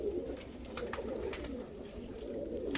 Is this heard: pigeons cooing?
yes